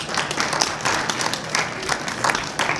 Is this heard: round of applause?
yes